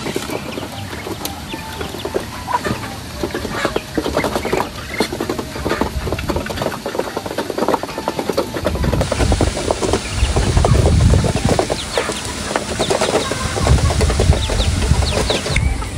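Chickens cluck and scratch close by, with busy pattering and rustling throughout and occasional louder flurries of clucks.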